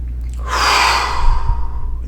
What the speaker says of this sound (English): I'm just breathing in as deeply as I can,